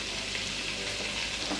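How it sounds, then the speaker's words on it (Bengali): Ground roasted cumin, roasted coriander and chili powder sizzle in oil separated from yogurt in a pot for a soya granule korma, a steady close, moderately quiet frying hiss running unbroken with no talk. "এখন দিয়ে দেব গুঁড়ো মশলাগুলো"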